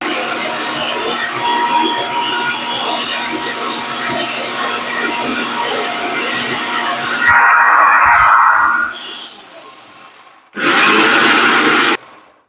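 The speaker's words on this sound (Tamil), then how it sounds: "இதுக்குள்ளேயே இப்போ வந்து மூடி போட்டு அடித்து எடுப்போம்" An electric mixer grinder blends salt and tomato into a paste for Jaffna-style masala dosa, a loud steady whirring drone that suddenly cuts out, restarts in short bursts and stops.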